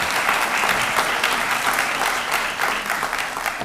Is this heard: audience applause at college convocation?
yes